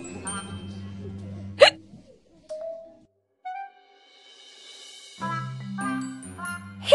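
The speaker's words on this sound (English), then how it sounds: "I have the hiccups." Cartoon-style hiccups punctuate a children's English reading story, several sharp hiccup sounds mixed with chimes and bright tinkling effects, with a voice speaking between them.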